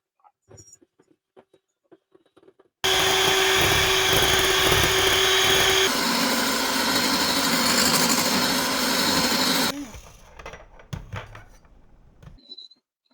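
An electric hand mixer whirs loudly and steadily as it beats egg whites toward stiff peaks, running about seven seconds with a change in pitch midway, framed by soft kitchen clatter before and after.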